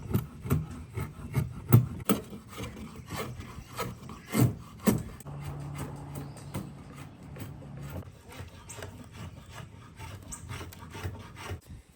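A hand saw cuts through a piece of hickory with knots and imperfections, rhythmic rasping back-and-forth strokes close up, steady then slightly softer toward the end.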